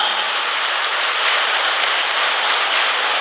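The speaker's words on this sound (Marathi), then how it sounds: "ह्या डोनरसाठी अशाच जोरात टाळ्या वाजवा" Steady, dense applause from an audience at a health talk, cheering a kidney donor, fills the whole stretch, loud and continuous with no pauses.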